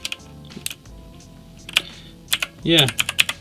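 Clicky keystrokes on a Silvercrest gaming keyboard fitted with Razer keycaps, a close, uneven run of sharp taps and short bursts, with a voice briefly speaking over part of the typing.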